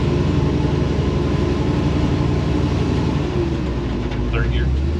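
A 1956 Chevy wagon with an LS engine pulls along in second gear, its low, steady engine drone filling the cabin from start to finish, with talking over it.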